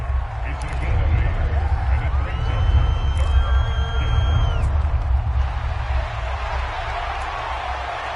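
Stadium crowd in Madden 24 football video game, a steady roaring murmur of spectators rising and holding through the play, with faint whistling tones above, under no clear speech.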